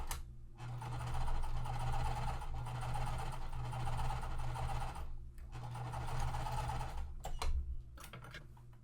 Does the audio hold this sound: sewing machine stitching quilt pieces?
yes